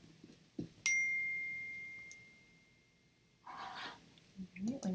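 A single computer notification chime rings out clearly and decays slowly over a couple of seconds in a quiet room, followed by faint rustling and movement.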